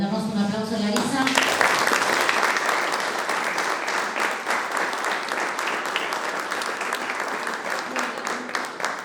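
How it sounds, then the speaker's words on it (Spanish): An audience at a talk on agribusiness structures applauds the speaker Larisa, dense sustained clapping that fills the room for several seconds and thins slightly toward the end. "le damos un aplauso a Larisa."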